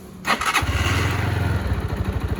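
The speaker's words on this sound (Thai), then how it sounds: "ผมสตาร์ทให้ฟัง คันนี้เป็นหัวฉีดแล้วนะครับผม" A GPX Raptor 180cc fuel-injected motorcycle from 2019 cranks briefly with the starter, then fires and settles into a steady, close, rhythmic idle with a soft, even engine note.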